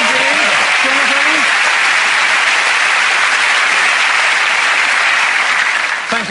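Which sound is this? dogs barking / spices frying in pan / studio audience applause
studio audience applause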